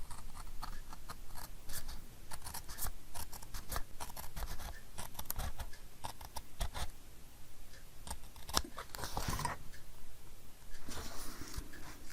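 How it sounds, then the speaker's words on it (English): Scissors trim a thin edge off a paper page, a steady run of crisp snipping and rustling strokes close to the ear, with no talking. "I'm going to do it with my scissors. And just cut a little thin edge off."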